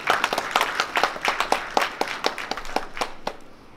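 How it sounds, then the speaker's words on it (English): A modest audience at a college launch event in Mumbai gives a short round of applause, with distinct, fairly close individual claps in an uneven rhythm that thin out and fade toward the end. "Let's have a round of applause for them."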